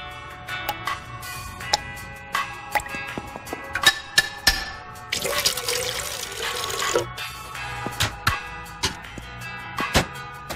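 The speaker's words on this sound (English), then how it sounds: "Is that the automatic drip?" An automatic drip coffee maker brews with irregular drips, gurgles and ticks, rising into a steady hiss of water for a couple of seconds before the dripping resumes.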